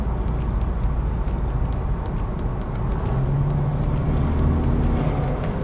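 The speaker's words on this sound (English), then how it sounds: "actually the only thing you hear is turbo noises, because it has an aftermarket intake on it" A BMW G20 330e with a B48B20A engine, aftermarket intake, and exhaust valves closed cruises at 100 km/h, giving a steady, loud cabin road drone with faint high turbo whistles and whooshes above it, without speech.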